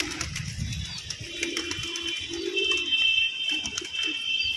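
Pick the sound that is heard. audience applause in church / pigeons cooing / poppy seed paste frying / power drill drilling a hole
pigeons cooing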